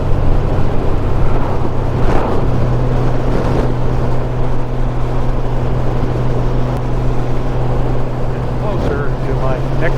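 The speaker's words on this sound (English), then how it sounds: "Even at 80 miles an hour, the engine is quiet." Motorcycle engine holding a steady drone at around 80 mph on a highway between Utah and Idaho, with constant wind rush and a low engine hum running unbroken throughout.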